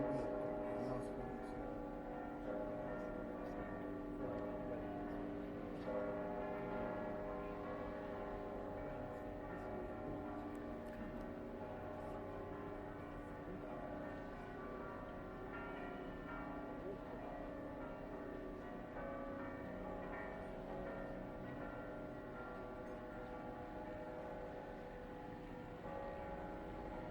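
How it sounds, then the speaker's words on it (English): The full set of Cospicua church bells rings together in a thick, continuous peal, many overlapping strokes and humming tones sustained evenly for the whole stretch, loud and unbroken with no voices. "it is important to hear what the whole set of bells at Cospiqua sounds like after Giuliano Pauchi finished casting his b"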